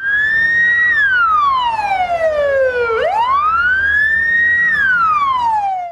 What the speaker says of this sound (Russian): Вой сирены на улице Полевая заставил оглянуться всех прохожих